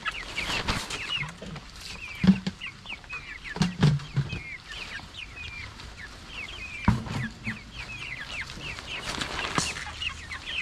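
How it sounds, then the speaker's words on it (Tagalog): Backyard chickens cluck steadily outdoors while being fed. The clucks are soft and irregular, scattered with sharper calls and a few low thumps, and no one talks over them. "next naman natin papakainin ay itong mga manok natin dito sa labas"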